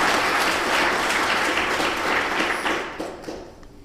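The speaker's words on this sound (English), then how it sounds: "we all deserve a big, huge round of applause" An audience breaks into loud, dense applause at a heritage-in-schools talk, many hands clapping close and steady before thinning out and fading at the end.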